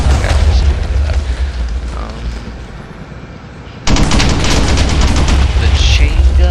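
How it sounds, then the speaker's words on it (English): A helicopter chain gun in a Minecraft helicopter mod fires in dense, loud bursts of rapid booming shots, easing off midway and then resuming sharply. Talk runs over the gunfire at times. "The chain gun isn't really damaging, so let's try something else."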